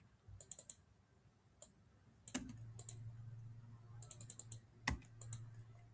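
Keys tapped on a computer keyboard while entering chart data, with short bursts of clicks and brief pauses, close and fairly quiet over a low steady hum.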